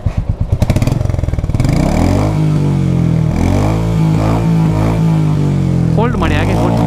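Royal Enfield Meteor motorcycle engine revving loud and close, opening with rapid pulsing firing beats that settle into a steady sustained drone, with people talking over it throughout.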